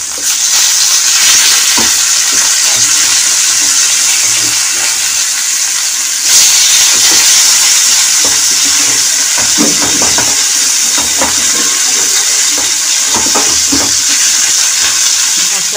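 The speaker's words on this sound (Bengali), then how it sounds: "আমার মাছটা ভাজা হয়ে গেছে, উল্টে দিচ্ছি।" Fish pieces frying in hot oil in a pan after being turned over, a loud continuous close sizzle that swells with a burst partway through, along with scattered light utensil knocks and no voices.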